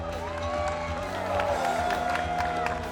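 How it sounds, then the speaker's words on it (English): Crowd cheering and applause at a medal presentation for pro women's doubles pickleball champions at the US Open, a steady wash of clapping and whoops with voices mixed in throughout. "A well-deserved round of applause"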